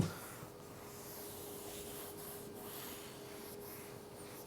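Soft, steady rubbing as a product is buffed into the trim surface of a Tesla Model 3, a faint, close, continuous swishing with no voices.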